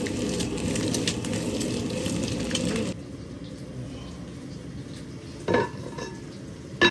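Quail eggs fry in hot oil in a wok, a steady loud sizzle for a few seconds that drops to a quieter hiss, with a couple of sharp utensil clinks against the pan.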